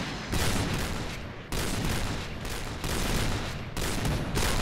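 Dense automatic gunfire from the Point Blank shooter game roars in continuous loud bursts with short gaps between volleys, heavy and close.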